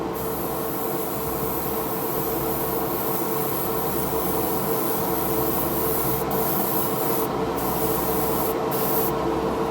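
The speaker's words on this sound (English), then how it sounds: "We need to turn the air compressor on." Air compressor running steadily to supply a spray gun for painting a McLaren Senna car model, a constant loud hum and hiss with brief high-pitched bursts near the end.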